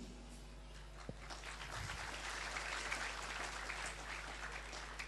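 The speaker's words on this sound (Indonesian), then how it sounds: "jangan tepuk tangan, men." Faint applause from a crowd at an Islamic sermon in Indonesia, a soft, dense patter of clapping that continues steadily under a low background hum, heard from a distance.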